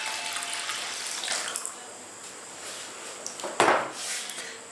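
Water poured onto moong and chana dal in a pot, a continuous close splashing rush with a sharper slosh near the end and faint clinks of cookware.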